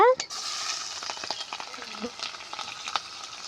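Green chillies and onions fry in hot oil for a green peas biryani, a close, continuous sizzle broken by scraping stirs, with a brief voice at the start.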